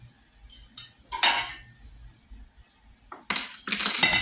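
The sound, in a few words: plating lasagna onto dishes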